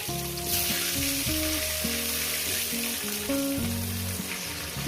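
Potatoes frying with turmeric powder in a pan, a soft steady sizzle underneath a louder layer of musical notes that carries on throughout the clip, with no speech.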